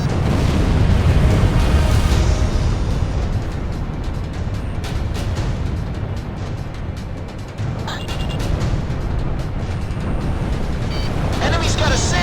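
A destroyed ground target explodes in the Ace Combat 6 flight combat game: a loud, sustained, rumbling blast that stays dense and heavy throughout, with voices talking over it.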